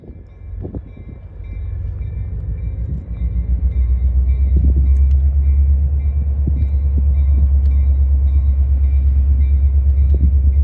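Oregon Eastern Railroad locomotive 3600 idling and rumbling in the yard before switching, a loud steady low diesel drone that swells and holds, with a few faint clanks over it.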